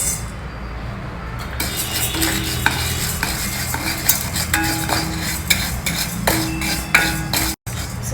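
Tuvar dal dry-roasting in a pan over a low flame, a dense rattling scrape of lentils stirred against metal, close and steady with a brief cut near the end.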